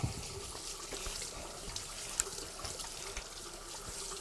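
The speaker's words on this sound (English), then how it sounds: "I'll wash my hands first, is cold water gets the blood right out." Cold water runs steadily from a tap while hands are washed under it, a continuous soft splashing trickle with a few small spatters, fairly close and with no voices.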